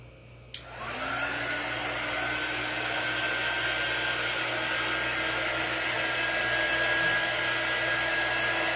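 A handheld quick-dry heat tool switches on with a click and then blows hot air in a loud, steady whoosh with a faint whine. The noise keeps going without a break, and nobody speaks over it.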